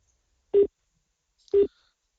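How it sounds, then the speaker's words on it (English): Two short, identical electronic beeps about a second apart on a phone call placed from a web browser, clean and steady, with silence around them. "So I can hear a beep"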